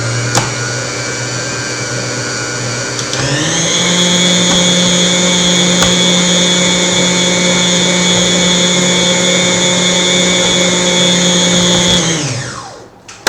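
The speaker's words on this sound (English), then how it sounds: "So I will give it another mix." Electric mixer beating Vasilopita cake batter, a steady loud motor whine that shifts up to a higher speed after a few seconds, holds evenly, then winds down and stops.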